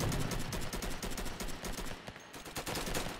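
Rapid automatic gunfire in the Roblox game Flag Wars, a dense continuous stream of shots with brief pauses and mixed bursts, loud and busy throughout with no talk.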